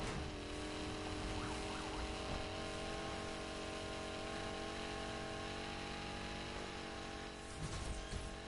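Car engine in Need for Speed Heat, a loud sustained rev holding a steady droning pitch throughout, close and alone apart from a brief shift near the end.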